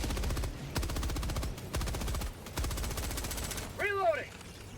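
Sustained machine gun fire in the sci-fi shooter Helldivers 2 comes in several long rapid bursts with short gaps between them, loud and close, before a brief warbling electronic chirp at the end.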